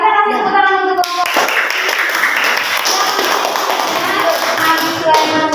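Schoolchildren in a classroom clap together for a group, breaking into loud, close, dense applause after a brief spoken moment, with the clapping holding steady to the end.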